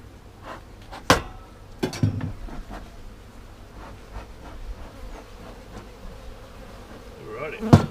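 Honeybees hum in a constant low drone while a backyard hive is opened for inspection, with a few sharp clicks and knocks of equipment rising above the steady buzzing.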